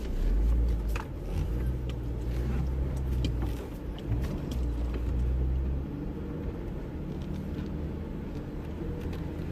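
A Jeep JL or JK engine labors at low revs, a steady loud rumble as it slowly climbs out of a dip on the rocky off-road trail at Holcomb Creek, with scraping and creaking over the drone.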